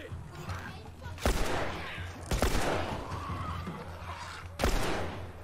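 Gunfire in The Last of Us Remastered on PS4 comes as three loud, sharp blasts spaced a second or two apart over a low, rumbling game background.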